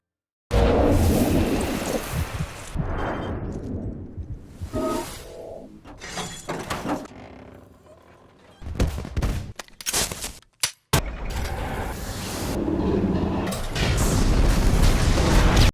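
Cinematic crashes, shattering and booming blasts from the film Mad Max hit in quick bursts, with rumbling debris and brief near-silent gaps between the loud impacts.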